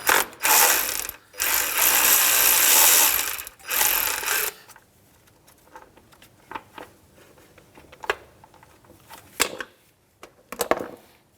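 A ratchet with a 10 mm socket loosens the overflow bottle bolt on a 2003-2011 Honda Element during radiator work, with loud close bursts of rapid clicking at first, then quieter scattered clicks and knocks.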